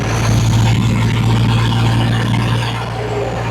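Inside the cab of a diesel-swapped classic Chevy Apache truck with a turbo and fender-exit downpipe, a loud, steady low drone of engine and road noise fills the space continuously while driving.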